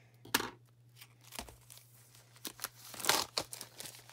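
A Paper Pumpkin card kit package is torn open close by, with crinkling plastic and paper, scattered rustles and several sharp ripping bursts, and no talk.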